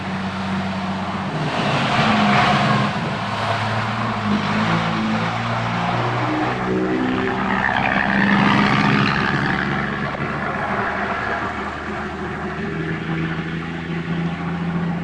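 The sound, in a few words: big truck driving past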